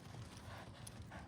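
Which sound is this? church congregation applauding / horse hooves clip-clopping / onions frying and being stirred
horse hooves clip-clopping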